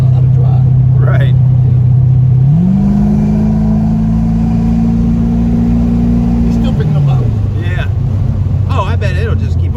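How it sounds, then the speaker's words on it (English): A 1987 C4 Corvette engine holds a loud, steady rev at close range, its pitch stepping up about a third of the way in, holding, then dropping back toward idle, while people talk over it. "I will still get a burnout"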